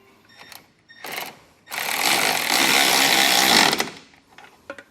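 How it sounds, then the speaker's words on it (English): A 3/4 inch wrench and socket snug down a nut while a Roadmaster Direct-Connect base plate kit is installed. Two short mechanical bursts lead into a loud, sustained whirring run of about two seconds, then trail off into brief clicks. "So I'm going to go ahead with a 3/4 inch wrench and socket and just kind of get this snug down."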